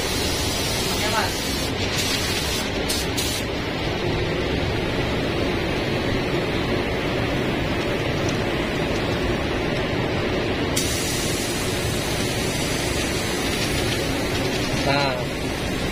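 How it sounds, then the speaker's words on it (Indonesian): Spray gun applying white xirallic car paint to a panel edge, a continuous loud hiss running throughout with brief changes in tone, while people talk intermittently over it. "Kita tutup dulu, kita semprot pinggirannya aja."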